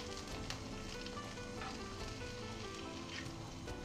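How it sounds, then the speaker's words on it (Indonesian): Eggplant simmering in seasoned sauce in a frying pan gives a steady, quiet sizzle and soft bubbling throughout, with no talk over it. "Biarkan bumbu saus mendidih dan pelan-pelan mengental ya teman-teman"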